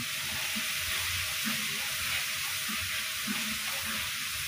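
Chili being fried in a pan with garlic, a steady loud sizzle with hissing and occasional stirring scrapes, close up with no talking, for a Padang-style dish.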